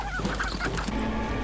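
Chickens squawk and honk in a TV drama scene, several loud close calls in a quick burst over a steady background hum.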